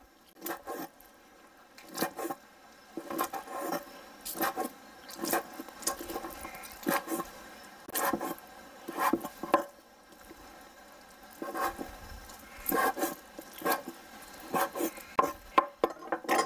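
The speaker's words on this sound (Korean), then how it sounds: "낙지는 이렇게 한 1, 2cm 정도로 송송 썰어주세요." A knife chopping octopus into small 1–2 cm pieces on a cutting board, with irregular clusters of soft wet cuts and taps coming in quick bursts separated by short pauses, close and fairly quiet.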